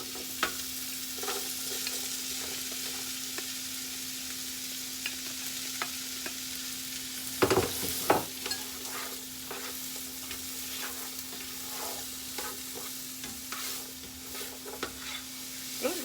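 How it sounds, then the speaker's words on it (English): Onions sizzle gently in a pan while being stirred, with soft scraping strokes and a few louder clatters midway over a constant low hum, no talking. "All right, so now I'm gonna add the onions."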